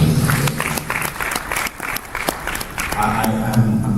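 Conference audience applauding on day three of the 2025 ATTIC event, a steady, close wash of clapping lasting about four seconds with a voice talking over it.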